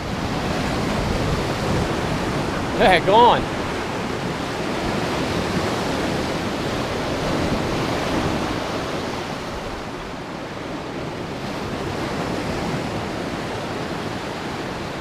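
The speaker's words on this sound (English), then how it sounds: "Those are some big waves." Broad roaring wash of big waves breaking on a Lake Superior shore at Pictured Rocks, steady and loud with wind, and a brief voice near the start.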